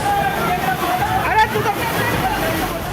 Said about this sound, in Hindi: पानी की ये आवाज आपको दहशत में डाल देगी